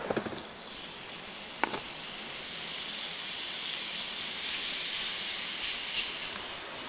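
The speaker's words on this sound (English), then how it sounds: "We need to get a nice sear on the beef. I'm going to pull some of this congealed bacon fat in here for it to cook in." Beef searing in bacon fat in a pan on a backpacking stove at a winter riverside camp, a steady loud sizzle and hiss that runs throughout with no talk.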